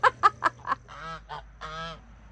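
A goose honks loudly and close by: four quick, punchy honks in a row, followed by a few longer, drawn-out nasal calls.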